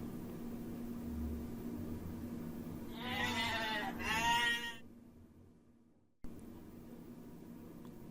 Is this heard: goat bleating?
yes